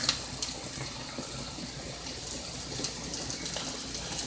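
Stock at a rolling boil in a pot on the stove, a steady hissing, bubbling rush with a few brief clinks, close and moderately quiet with no talking.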